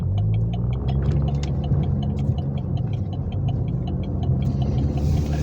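Inside a car while driving, a steady low engine and road rumble fills the cabin with a faint regular ticking above it, constant and close, with no one talking.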